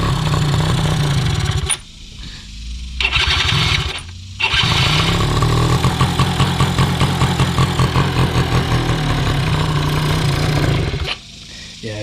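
A small farm engine runs rough on choke just after starting, sputtering and surging loud and close, cutting out briefly twice before settling into a steady pulsing idle, with people talking over it.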